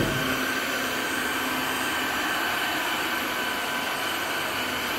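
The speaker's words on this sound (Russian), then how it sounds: "Я нажала, и оно начало мыть. Уже не просто пылесосить, а мыть." A Tineco wet vacuum cleaner runs in washing mode with a loud, continuous whirring drone and a high whine. The sound stays steady throughout, and no one talks.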